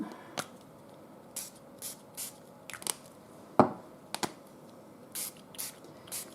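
Short hissing bursts from a Glimmer Mist paint spray bottle, repeated irregularly in quick puffs with a few sharper clicks, close and fairly quiet between sprays.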